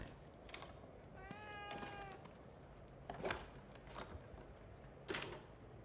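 A cat in The Evil Within 2 gives a clear, rising meow near the middle, set over a murky game ambience with a few sharp clicks and thuds before and after.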